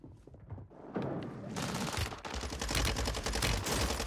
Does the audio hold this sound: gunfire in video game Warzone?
yes